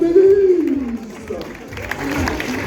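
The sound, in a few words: crowd applauding an athlete at a half marathon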